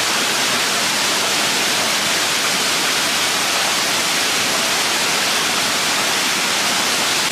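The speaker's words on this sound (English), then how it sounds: "I can hear the waterfall" Waterfall along a rainy hiking trail, a dense, steady roar of rushing water filling the whole clip without break, loud and constant with no voices.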